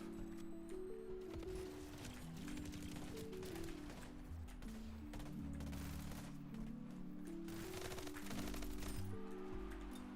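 Rapid bursts of video game gunfire crackle over a dense, busy game soundtrack, with repeated automatic shots spread through the whole stretch.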